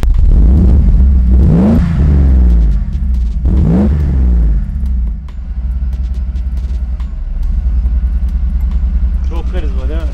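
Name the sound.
Mercedes-Benz W140 S500 engine cold start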